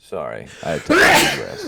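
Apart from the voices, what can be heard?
sneeze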